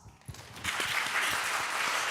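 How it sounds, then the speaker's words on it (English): Audience applause for a speaker at a talk on antisemitism after October 7, starting softly and swelling into steady, dense clapping from a sizeable crowd in a hall. "Applause."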